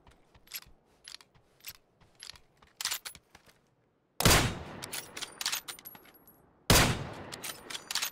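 Gunfire aimed at the player in a Roblox game, with scattered light mechanical clicks followed by two loud, sudden bursts of rapid shots. No one speaks.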